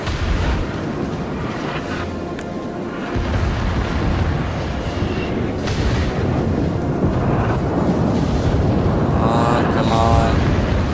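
Heavy naval guns boom in a World of Warships sea battle, with deep rolling blasts over constant wind and water rumble that builds louder through the second half, and a voice speaks briefly.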